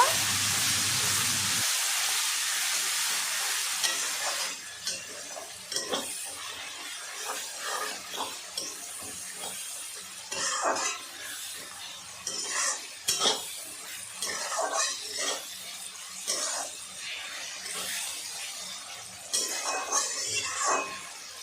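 Tomato and salt are stirred into a rohu fish curry in a pan, with repeated clinks and scrapes of a spoon against metal over a faint sizzle, close and fairly quiet, broken into short bursts of stirring.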